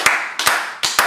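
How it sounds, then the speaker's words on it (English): Scattered hand claps from a comedy club audience after a stand-up set, three short sharp bursts of a few people clapping, close and distinct, with gaps between them. "More applause, please."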